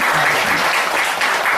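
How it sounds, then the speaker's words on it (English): Applause from an audience at a product demonstration seminar, a brief, dense burst of many hands clapping at once, loud and steady. "A round of applause for our honors report"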